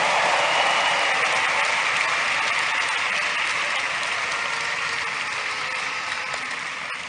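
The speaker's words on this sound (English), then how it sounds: "Give the Lord a big clap offering" A church congregation claps together as an offering of praise, a dense, sustained wash of applause that slowly tapers off, with no talking over it.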